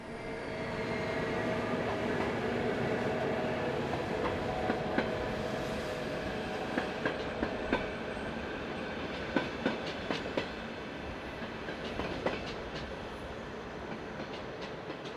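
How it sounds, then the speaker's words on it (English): Swiss train 560049 pulls away on an S23 local service from Langenthal to Baden, a steady rumbling roar with scattered clicks and clacks of wheels over rail joints, with no talk. "560049 departs with an S23 local service from Langenthal to Baden"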